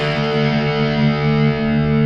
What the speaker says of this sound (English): They're heavy, we have distortion, we have effects, it's loud.